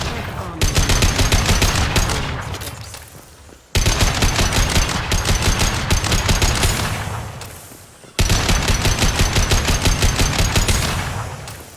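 Mattock rifle fire in Mass Effect 2, loud close bursts of rapid semi-automatic shots, three long volleys each trailing off before a brief pause.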